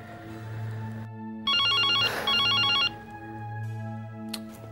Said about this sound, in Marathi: जा बघ, फोन वाजता घे.